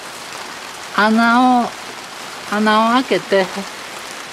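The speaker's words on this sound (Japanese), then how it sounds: "雨降ってきて、えらいことなってます。" Rain falls on a garage roof as a steady, even hiss running underneath, while someone talks nearby in short phrases.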